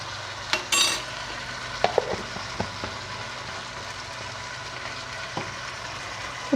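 Beef pieces fry in oil with ginger garlic paste, a steady close sizzle broken by occasional clacks and scrapes of a stirring spoon against the pot.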